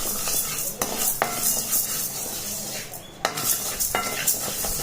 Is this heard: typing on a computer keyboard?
no